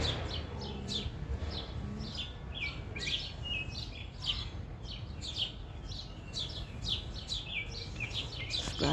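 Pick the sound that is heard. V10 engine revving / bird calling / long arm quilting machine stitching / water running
bird calling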